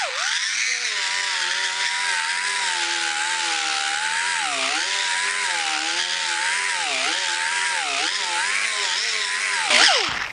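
Grinder with a 120 grit disc smoothing a weld on a hand-built aluminum bonnet for a Jaguar E-Type, a loud continuous whine that wavers in pitch as pressure changes, cutting off at the end.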